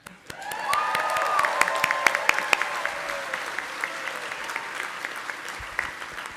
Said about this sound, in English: Okay, now we should clap.